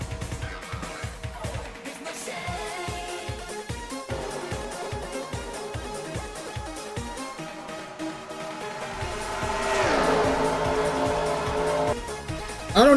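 Stock cars race in the NASCAR Racing 2003 video game, with loud engine drones, rapid gear-change pulses and a rising whine as several cars pass close in a bunched pack, ending with a sharp burst.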